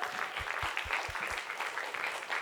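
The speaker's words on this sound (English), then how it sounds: "How about another round of applause?" Audience applause fills a piano show on stage, a steady wash of clapping from a crowd that holds at an even level throughout.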